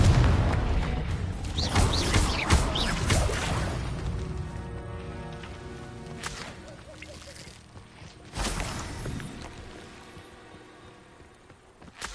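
Fiery Confringo blast spells in Hogwarts Legacy burst as booming explosions: a dense run of loud blasts at the start, then a fading rumble, another heavy blast later and a last pop at the end.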